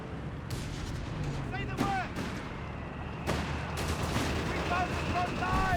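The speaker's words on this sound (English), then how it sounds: "Mortar firing down from above here" Mortar fire in Company of Heroes 3, a real-time strategy battle between Afrika Korps and US forces: distant booming launches and impacts amid scattered battle noise, with a voice commentating over it.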